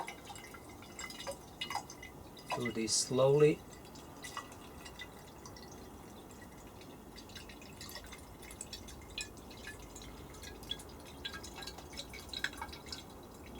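C41 colour developer is poured slowly into a bottle, a short trickling pour with small drips, quiet and close, and a brief spoken remark on top.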